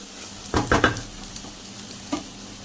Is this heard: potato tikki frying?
yes